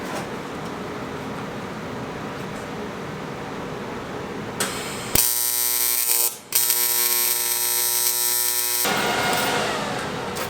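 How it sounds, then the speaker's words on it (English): Tack welding on a car part for a budget twin-turbo LS Malibu build, heard as a loud steady electric buzz of a few seconds breaking out of a quieter background hum, then cutting off. "What if I tack weld it on the outside?"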